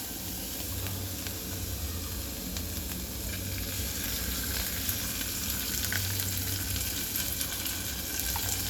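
Dried omena fish fry in freshly added oil, a steady, close, continuous sizzle and hiss with faint scraping throughout and no voices.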